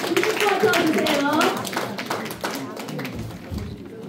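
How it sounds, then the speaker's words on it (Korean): Audience clapping at an award ceremony for a literary prize in a district hall, a burst of close, loud claps that thins out while a voice speaks over it. "박수 좀 힘껏 주세요"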